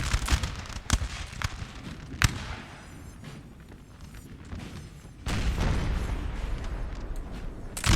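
Artillery fires in a Napoleon: Total War battle at Lundy's Lane, 1814, a series of sharp booms and cracks in the first few seconds over a rumbling background that swells louder near the end.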